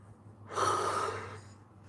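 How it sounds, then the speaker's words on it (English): A person yawns once, a breathy exhalation that swells and fades over about a second, close to the microphone in a quiet room with a low hum underneath. "I don't know why I'm yawning."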